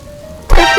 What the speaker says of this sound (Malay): Hujan mula turun.